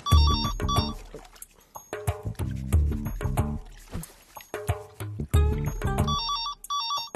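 A melodic phone ringtone sounds in a comedy movie scene, its tonal phrase repeating in short bursts with brief gaps, fairly loud and close over light background noise.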